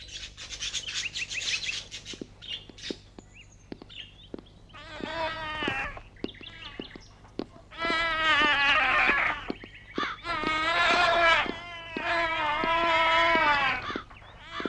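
Cats meow in a series of loud, close, drawn-out wavering cries, several in a row with short gaps and a few higher chirpy sounds mixed in.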